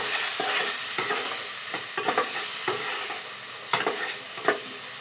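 Onions and tomatoes stirred and fried in a pan, a steady sizzle with repeated scraping strokes of the spoon at roughly one-second intervals, close and fairly loud.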